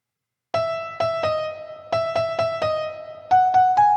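A stabby phrase from a Christmas song: short, punchy synth chord hits in uneven rhythm, each one decaying quickly, loud and close, with the pitch lifting on the last few stabs.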